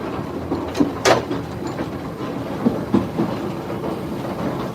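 Steady rumble of a moving steam train pulling a light load, heard from the cab on the Isle of Wight Steam Railway, with rhythmic clicks and clanks from the wheels and couplings at a constant pace.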